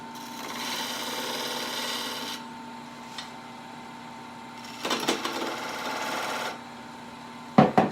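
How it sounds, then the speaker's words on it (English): A skew chisel squares the shoulders of a wood blank spinning on a lathe, giving a soft, continuous scraping hiss in two long passes with brief gaps and a few sharper scrapes. "This is called a skew, and this will be to kind of square up the shoulders so we can mount it in the chuck."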